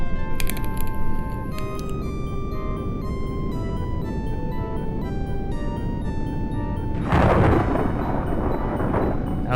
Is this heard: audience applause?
no